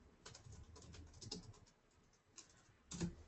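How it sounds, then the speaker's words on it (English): Quiet keystrokes on a computer keyboard come in short, uneven bursts with pauses between them, faint and close, followed by a slightly louder cluster of taps at the end. "I can type."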